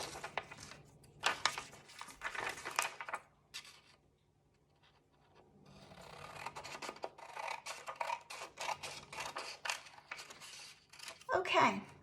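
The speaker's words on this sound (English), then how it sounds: "And then I'll just cut it" Scissors cut through folded paper while building a paper cube, giving crisp, close snipping and rustling strokes in two bursts separated by a short quiet pause, with a final handling noise at the end.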